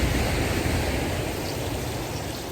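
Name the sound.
sea waves breaking on the Moray Firth shore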